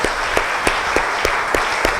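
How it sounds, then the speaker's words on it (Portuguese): A church congregation claps together in a steady, evenly spaced rhythm of sharp beats about three per second, heard over a continuous background wash during worship. "Então vamos aplaudir Jesus nessa hora com alegria nos nossos corações."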